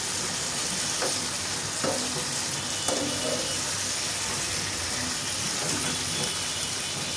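Potato, eggplant, pointed gourd and hilsa fish fry on low heat in a pan, a steady soft sizzle running throughout with a few faint stirring knocks.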